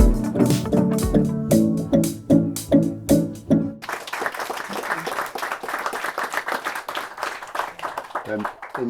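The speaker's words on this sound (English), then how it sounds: "In the edit, we can put that applause at the end" An audience applauds, with a few rhythmic, even claps giving way to dense, sustained clapping from a crowd.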